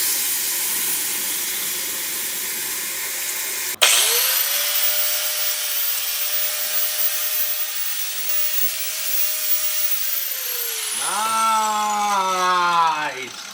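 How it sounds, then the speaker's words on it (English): An angle grinder cleans up a cut on a metal auger attachment, starting with a sharp whine that holds steady at close range, then spins down with a falling tone near the end. "Go clean up where you cut a little bit with the grinder"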